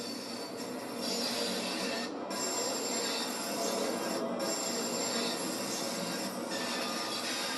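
London Underground tube train running between Harrow and Elephant and Castle in Train Sim World 5, a steady rattling, whirring rumble with brief dips in the noise, moderately loud throughout.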